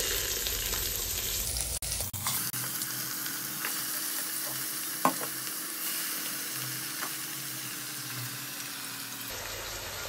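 Pieces of goat head meat sizzling in oil with browned onions, a steady close frying hiss with a few stirring clinks and a brief sharp knock partway through.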